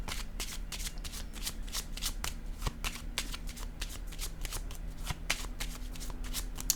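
A deck of oracle cards shuffled close by in rapid, crackling bursts, with sharp riffles repeating steadily and no talking over them.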